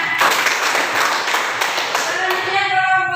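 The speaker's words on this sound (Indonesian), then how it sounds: "Tepuk tangan." Classroom applause after a group presentation, a dense wash of clapping from many hands filling the room for about three seconds before thinning out at the end.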